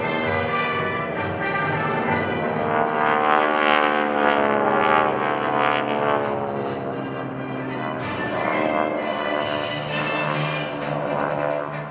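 At the 2011 Blue Angels Homecoming Airshow, a formation of GEICO Skytypers propeller planes roars low overhead in a loud, sustained, throbbing engine drone that swells and eases slightly as the aircraft pass.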